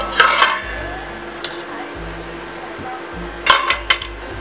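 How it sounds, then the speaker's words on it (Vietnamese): Boiled sweet potatoes being scooped out of a pot, with a few sharp clinks of utensil against metal at the start and near the end, over a steady background hum. "Rồi sau 2 phút chúng ta luộc khoai, bây giờ các bạn sẽ vớt ra."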